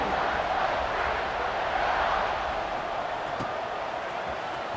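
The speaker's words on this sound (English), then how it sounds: "this crowd is buzzing after that last score" Football stadium crowd buzzing steadily after a score, a dense, continuous roar of many voices that stays loud and even throughout with no single voice standing out.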